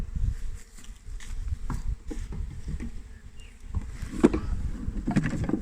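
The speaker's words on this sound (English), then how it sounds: "we gave it a good shake. A few bees come out." Bees from a swarm buzzing as they come out of a shaken box while being moved into a hive super, a low steady droning close by with scattered knocks and handling sounds; fairly quiet, no talking.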